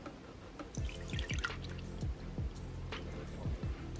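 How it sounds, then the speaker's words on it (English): 2% milk poured into a shrimp batter mixture, a run of wet, squishy drips and gloopy liquid plops in uneven succession, close and fairly quiet. "So we're going to go ahead and pour in this milk."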